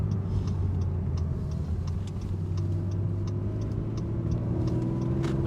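A 2nd-generation Honda NSX with its 3.5-litre V6 drives on the road, giving a steady, smooth engine drone and tyre rumble heard from inside the car, with no talking.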